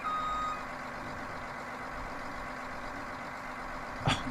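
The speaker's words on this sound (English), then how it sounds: "backing these stupid tractors up are a pain in the butt" Tractor reversing beeps in the farming game Farming Simulator 19, a faint steady repeating tone over a low idling engine hum, with a brief louder clunk near the end.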